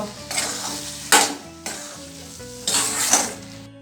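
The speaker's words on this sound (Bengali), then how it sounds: "এর মধ্যে দিয়ে দিচ্ছি 1 চামচ জিরে গুঁড়ো, দিয়ে দিচ্ছি লঙ্কা গুঁড়ো। এটা ভালোভাবে মিশিয়ে নেব।" Cumin powder and chili powder sizzle in hot oil as a spoon stirs them in a pan, making close hissing bursts broken by scraping strokes and a few metallic clinks.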